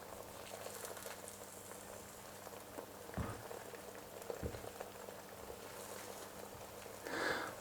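Egg omelette setting in a hot pan while a grilled egg, cheese and ham sandwich is being made, giving a steady soft sizzle and bubbling throughout, with a couple of brief clatters from handling the pan.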